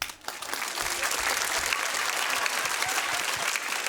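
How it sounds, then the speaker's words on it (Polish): A cabaret audience breaks into steady, full applause for a band being introduced, a dense wash of clapping from a large crowd that holds evenly throughout. "Wielkie brawa!"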